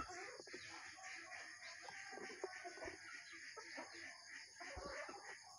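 Several chickens cluck and murmur steadily nearby, with occasional louder squawks over a faint background hum.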